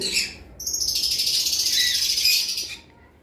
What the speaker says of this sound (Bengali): ইয়েলো সাইডেড কোনোর এবং পাইনাপেল কোনোর এই যে এইখানে কিন্তু একটা পেয়ার দেখতে পারতেছেন